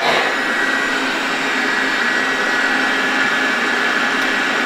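Lefant N3 robot vacuum cleaner starting a cleaning run, a steady loud broadband whir of its suction motor and brushes, close by and continuous with no talking.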